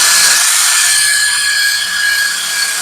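A hand drill fitted with a sharpening attachment grinds along a steel lawnmower blade, a loud, steady high-pitched whirring and scraping with no pauses, close to the microphone.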